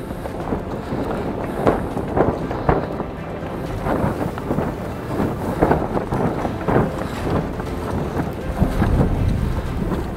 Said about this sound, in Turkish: Ve rüzgar kuzeybatı yönünden 5-6 knot seviyesinde esiyor.